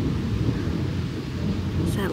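Low thunder rumbles steadily through a storm, a deep continuous roll with no voices over it.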